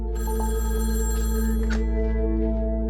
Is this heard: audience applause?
no